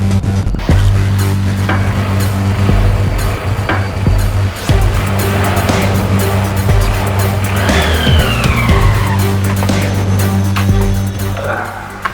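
A car skids to a stop in a Hindi crime drama: loud tire squeal and engine noise fill the scene, with a long screeching skid near the end, close and forceful.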